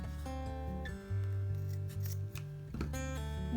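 Scissors snip off the loose string ends of a handmade tassel, with a few quiet, close cuts over a steady tonal background hum.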